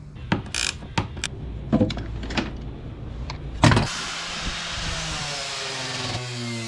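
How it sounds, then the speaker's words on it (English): A drill bores out spot welds on a Nissan 240SX transmission tunnel, a series of short whirring bursts at close range, followed by a longer sustained drilling whine. "I'm going to begin with drilling out all these spot welds here"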